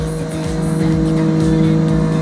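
A car drives through a tunnel in Forza Horizon 6, its engine holding a steady droning tone with strong reverberation off the walls, loud and close, with faint tire noise underneath.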